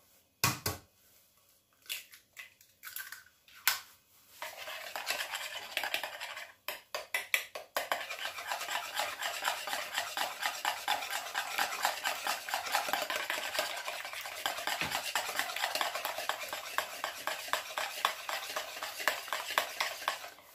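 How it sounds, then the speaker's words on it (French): Eggs are whisked in a mixing bowl for a crustless leek quiche, starting with a few scattered taps, then settling into a fast, steady clatter of rhythmic strokes for over twelve seconds, close and moderately loud. "dans mon saladier, je vais commencer par fouetter les œufs"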